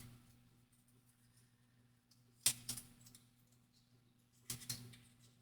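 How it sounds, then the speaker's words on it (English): Scissors snip through paper while making collaged, stitched craft frames: two crisp, brief cuts about two seconds apart, close and fairly quiet over a faint steady room hum. "Use my scissors and just kind of help this along a little bit"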